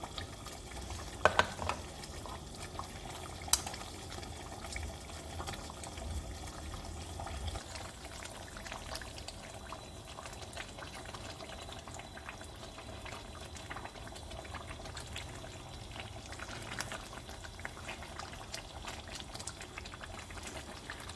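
Turnip and kofta korma frying in a covered pot, a soft, steady sizzle and bubbling that runs quietly and evenly for about twenty seconds with no talking.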